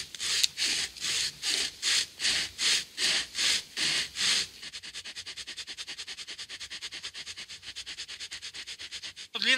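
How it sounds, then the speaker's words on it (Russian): A small handheld pocket saw cutting through wood, first with slow, long rasping strokes in an even rhythm, then switching to fast, short, rapid strokes, close and loud. "Попробуем сначала попилить в одного, а потом как оно вдвоем будет."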